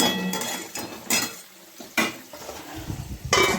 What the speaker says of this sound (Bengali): টমেটোটা দিয়ে দিলাম নুন দেওয়া আছে একটু কমিয়ে ভাজা হোক